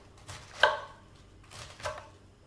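A knife chopping cabbage on a board, two distinct close thuds about a second apart, with no talk.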